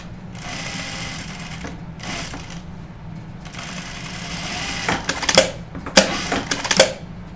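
A sewing machine stitches fabric for a dog coat, running in a steady, fast, close whirring patter, with a few sharper clacks and bursts near the end.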